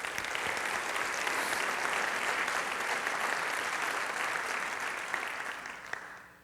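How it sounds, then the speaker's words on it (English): A sustained round of audience applause fills a formal address, loud and steady throughout, then tapering slightly at the end with no talk over it. "Please, let's have a round of applause here."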